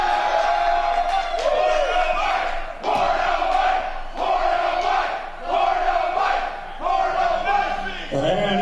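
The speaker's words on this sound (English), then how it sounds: "Crowd letting him know that nobody wants him." A professional wrestling crowd at a Spokane Anarchy Wrestling event jeers and shouts at a hated wrestler, loud waves of booing and yelling that surge and dip in bursts.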